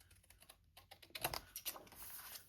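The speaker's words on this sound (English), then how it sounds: "I'm going to cut the stamps off" Scissors cut postage stamps off a sheet of paper, giving a short run of quiet, close, crisp snips and clicks against a near-silent background.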